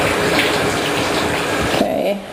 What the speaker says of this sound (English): Why don't you hold on to that and you can kind of rinse yourself off.